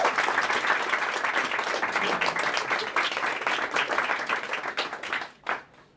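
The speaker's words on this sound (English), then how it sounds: "I think that just directly deserves a new applause." Audience applause at a talk on evolution, a dense sustained wash of many hands clapping close and loud, fading out near the end.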